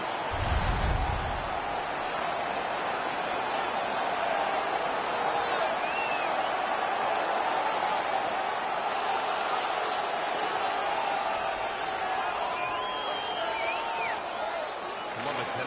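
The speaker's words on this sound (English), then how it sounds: "The home crowd is ecstatic. They're making all kinds of noise." A dense, steady roar of a large home crowd cheering and making noise in an NHL 18 hockey video game, sustained and loud throughout, with no clear voices standing out.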